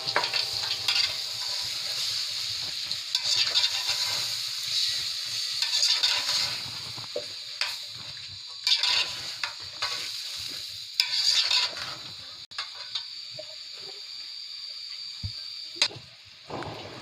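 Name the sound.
stirring aloo kurma with turmeric and spices in pan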